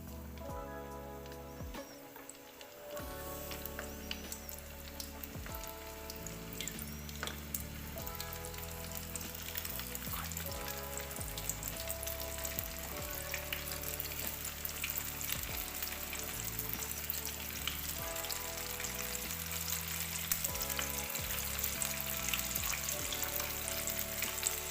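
Flour-coated shrimp fry in hot oil in a pan, giving a steady, continuous sizzle that runs the whole time beneath prominent background music.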